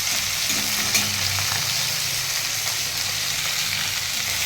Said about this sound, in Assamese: এইটো এতিয়া এইখিনি ভাজি আছোঁ ধুনীয়াকৈ